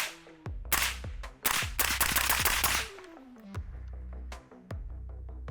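A Cetme L rifle with an 11.5-inch barrel and muzzle brake fires a quick run of sharp, loud shots at an outdoor range, spaced close together, followed by fainter clicks and metallic handling sounds.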